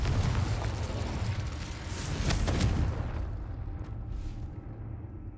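A Confringo explosive spell goes off in Hogwarts Legacy, a loud rumbling blast with crackling bursts that swell around the middle, then the roar drops away into a quieter tail.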